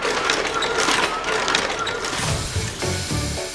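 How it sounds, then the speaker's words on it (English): A book sewing machine running with a rapid mechanical clatter, dense and steady, with rhythmic lower thumps of its moving parts toward the end. "Did you hear the sound the book sewing machine made?"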